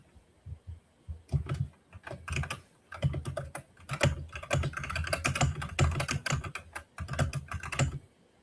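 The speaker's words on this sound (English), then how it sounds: "That's a serious mechanical keyboard." Close, brisk clatter of typing on a mechanical keyboard, with bursts of rapid key clicks separated by short pauses, fairly loud and continuous throughout.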